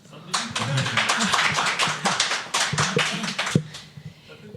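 Audience applause in a hall during a live podcast recording, a lively crowd clapping with a dense, steady patter for a few seconds before it thins out and fades, with faint voices underneath.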